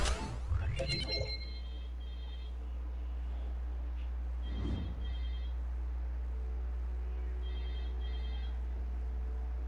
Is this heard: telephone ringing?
yes